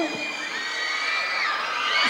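An audience of children at a school science day event cheers and shouts for contestant number 11, a dense, bright crowd roar that holds steady throughout.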